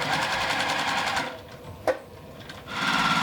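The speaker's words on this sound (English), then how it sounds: "then we're going to sew along the side" A sewing machine stitches quilt pieces along the side seam, running in a fast steady whir, stopping briefly with a soft click, then starting up again.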